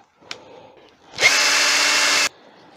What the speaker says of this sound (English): Now we just want to drill the hole.